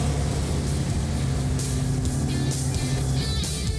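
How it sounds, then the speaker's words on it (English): A Dodge Coronet engine idles with a steady, deep low rumble, close and unbroken throughout, with no voices over it. "God, it's even idling nice."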